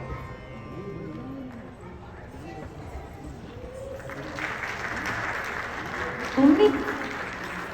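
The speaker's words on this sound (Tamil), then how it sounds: "நம்ம ரெண்டு டான்சர்ஸ்க்கு நல்ல ஒரு கைத்தட்டல் போடுங்க" Applause for two dancers after a classical dance performance at a Pongal festival event, rising midway into a broad clapping wash from the audience, with a mic voice speaking over it at first.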